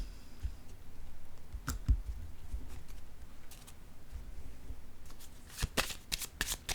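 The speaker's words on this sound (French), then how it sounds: "Je vais déposer une carte ici." A tarot card is laid down during a reading, with soft shuffling and light card clicks and taps, quiet and close, a few sharper slaps near the end, no talk.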